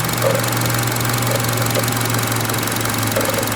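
A 2012 Chevy Cruze EcoTec engine runs with a steady close mechanical rattle and drone, a constant idle-like hum with faint ticking throughout, no voices.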